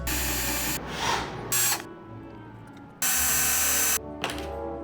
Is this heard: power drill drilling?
yes